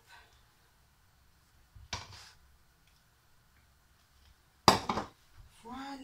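A spatula works ingredients together in a bowl for a scallop flan, giving two distinct bursts of scraping and clinking against the bowl between quiet stretches, with a faint voice near the end.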